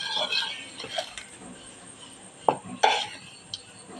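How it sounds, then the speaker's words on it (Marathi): Spice mix is added to raw mango pickle in a home kitchen. Soft scraping and stirring of utensils is heard, with a few sharp metallic clinks of a spoon against the dish. "हा मसाला केलेला घालणार आहोत"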